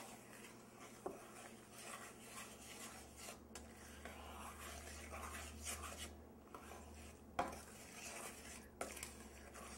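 Peach cobbler filling stirred with lemon juice in a bowl, soft continuous scraping and rubbing of a utensil against the dish with a few sharper clinks, quiet and close over a low steady hum, with no talk.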